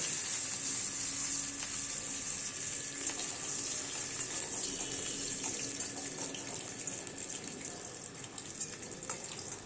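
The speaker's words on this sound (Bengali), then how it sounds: "আমি কড়াই গরম হয়ে গেছে ঘি, এবার আমি চিনেবাদামগুলো ভেজে নিলাম।" Peanuts frying in hot ghee in a wok give a steady, even hiss of sizzling that stays at one level the whole time, close by and with no voices over it.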